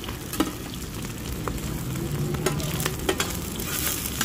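Hoy tod, a Thai fried mussel pancake, sizzles and crackles on a hot pan at a street stall, a steady close frying hiss with occasional sharp scrapes and clicks from a spatula.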